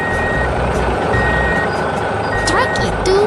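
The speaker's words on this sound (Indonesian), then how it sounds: "Setelah tugas selesai, truk hijau itu melaju pergi dengan teratur." A green truck in an animated 3D construction scene with a roadheader cutting a rock portal drives off, a steady loud engine rumble with intermittent reversing beeps and a rising mechanical whine near the end.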